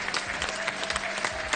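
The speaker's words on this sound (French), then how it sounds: "On applaudit très fort Léonore et Stéphane." A television game-show studio audience applauds loudly for two contestants, brisk, dense clapping sustained throughout the short stretch.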